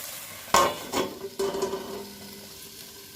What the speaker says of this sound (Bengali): একবার নাড়া দিয়ে দিই। ভাজিটা অল্প আঁচে করব, কম তেল দিয়েছি